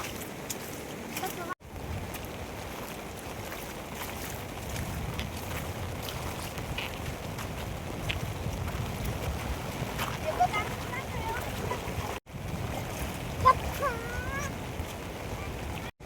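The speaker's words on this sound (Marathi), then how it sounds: "धबधबा" Steady rushing waterfall water roars throughout during a flood on the Kalu river, a continuous outdoor wash of sound with faint voices and brief dropouts.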